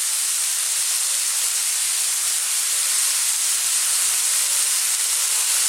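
Garlic and ginger sizzle steadily in a hot pan with salt, a constant hiss of frying for a carrot coconut curry, close and even throughout with no talking.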